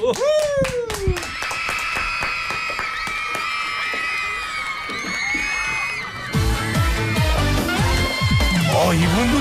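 A radio show audience claps in a sharp rhythmic beat along with a lively song during a singing contest, with whoops and cheering voices rising over the clapping.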